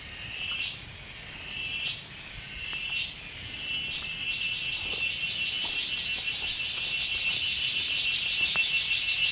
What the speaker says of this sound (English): the clamor of the cicadas as the background score